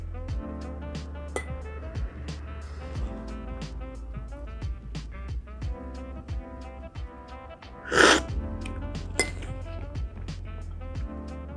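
A spoon stirs coffee in a ceramic cupping bowl, giving repeated light clinks and scrapes against the bowl at an irregular pace, with a short louder burst of noise partway through.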